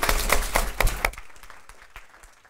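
Audience at a travel trade conference awards session applauding, a loud burst of many hands clapping with sharp claps that quickly thins to scattered claps and fades.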